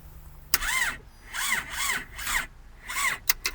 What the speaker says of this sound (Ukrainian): Простояла малишка довго і не хоче заводитися.